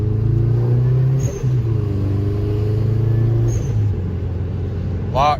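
A Subaru Legacy with a DIY short throw shifter drives along with a steady low engine drone and road rumble, the pitch shifting slightly as gears change, while someone talks over it.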